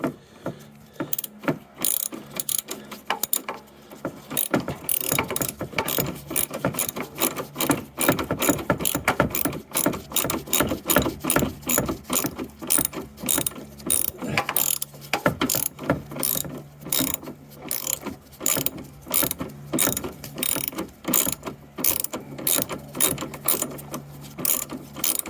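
A ratchet spanner tightens bolts with a dense, continuous run of loud, fast metallic clicks that goes on at close range for about twenty-five seconds, with small pauses as the handle is swung back.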